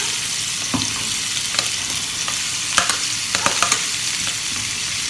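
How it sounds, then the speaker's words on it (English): Pasta ingredients sautéing in a hot pan for rasta pasta, loud and close: a continuous bright sizzle with scattered spoon scrapes and taps throughout, no talking. "Turn it down, let it saute."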